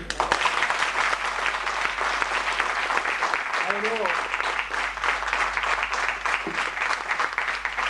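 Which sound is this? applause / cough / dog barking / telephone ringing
applause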